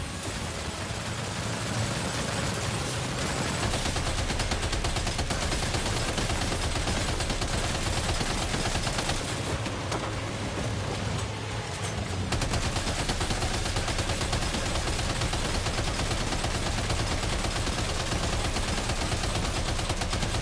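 Sustained gunfire from a Death Stranding 2 battle roars on for the whole stretch, dense rapid automatic bursts blending into a loud continuous barrage with engine rumble beneath, with no talk.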